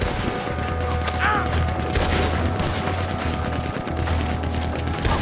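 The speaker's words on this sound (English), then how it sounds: "Keep going for the Gatling. Look out, he's firing. Hell, that gun can shoot." A Gatling gun firing in a shootout in the video game Red Dead Redemption 2: dense, continuous rapid gunfire and booms fill the whole stretch at high loudness, with a steady low drone underneath.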